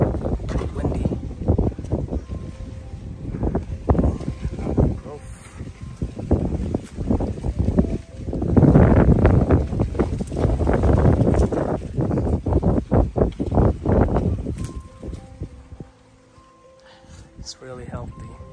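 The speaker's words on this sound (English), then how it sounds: "Windy." Wind gusts outdoors around a jackfruit tree, buffeting the microphone in rough, rushing bursts that swell in the middle, with people talking throughout.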